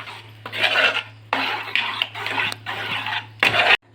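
Jackfruit ada mixture with dry ginger powder being stirred in a pot, thick scraping strokes of a spoon in repeated bursts with short pauses between, close and loud.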